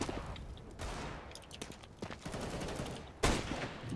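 Rapid bursts of gunfire from the shooter game CS:GO crackle through a competitive match, with several close volleys and one sharp, louder burst near the end over a busy mix of game noise.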